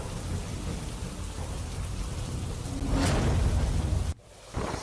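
Heavy monsoon rain pours down in Junagadh, a dense steady roar of falling water, with a loud thunderclap crashing through near the end before the downpour briefly drops away and returns.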